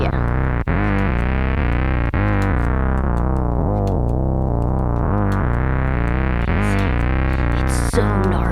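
A bass line played through an MXR Bass Synth pedal, heard alone without a backing track: a loud, thick, buzzy synth tone that holds continuously while its filter sweeps down and then back up, with a few brief note breaks.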